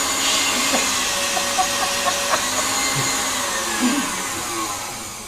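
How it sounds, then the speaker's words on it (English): A kitchen dishwasher runs with a steady, loud whooshing rush of water and air during a home baking session, accompanied by faint scattered clicks and clinks, with no speech. "Laura, will you run down there and turn the dishwasher off?"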